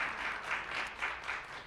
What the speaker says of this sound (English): Let's give a round of applause to Isabel and her team to put all this together.